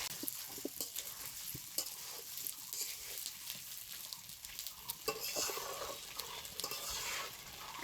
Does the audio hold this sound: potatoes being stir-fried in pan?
yes